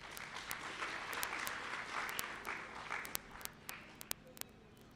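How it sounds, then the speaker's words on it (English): An audience at a community colleges infrastructure launch applauds the Minister with steady crowd clapping that thins out toward the end into a few sharp, isolated claps. "A hand of applause for our Minister"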